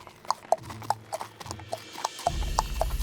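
Donkey hooves clop on a cobblestone street in a steady, even walking rhythm of sharp taps, moderately close, with a low rumbling background that swells toward the end.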